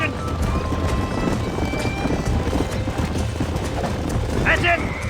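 A horse in Red Dead Redemption gallops and neighs while being lassoed, hooves drumming steadily over a dense, noisy game backdrop, with a brief whinny near the end and a voice talking over the action.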